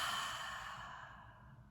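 A long, airy exhale during a guided belly-and-chest breathwork practice, close and soft, slowly fading over under two seconds with no talking.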